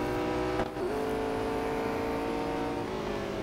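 McLaren 765 LT race car engine in Real Racing 3, a steady loud engine drone with harmonic whine that dips briefly as the car shifts gear, then holds a sustained high rev.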